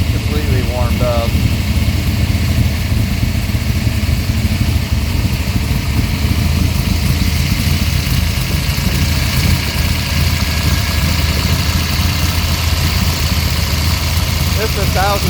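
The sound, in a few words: all-aluminum Pontiac 535 engine idling on pump gas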